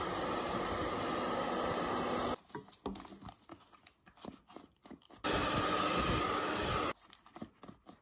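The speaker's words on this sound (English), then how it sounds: "now for the hairdryer" A hair dryer blows in two steady bursts of loud whooshing hiss while wax forming a leather knife sheath, with quieter clattering and handling sounds in between.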